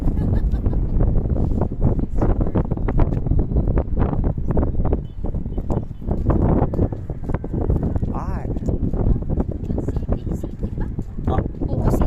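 Heavy wind buffets the microphone in continuous loud gusts, with people talking underneath the roar, in Sorsogon City, Philippines.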